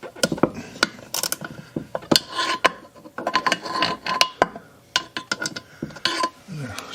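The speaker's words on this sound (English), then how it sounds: "Handy little ratchet driver this" A ratchet driver turns a tight 1/4 inch bolt on a Briggs & Stratton engine, giving close, irregular bursts of rapid ratcheting clicks and scraping between short pauses.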